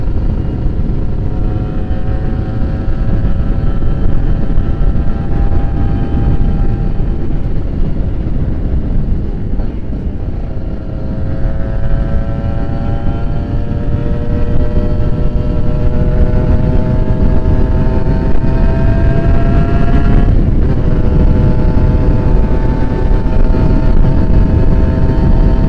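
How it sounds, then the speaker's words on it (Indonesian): A 2015 Kawasaki Ninja R motorcycle engine drones loud and continuously while being ridden, its pitch climbing steadily through the gears, then dipping and rising again under heavy wind rush. "Masih mau lanjut ini suara gasnya guys."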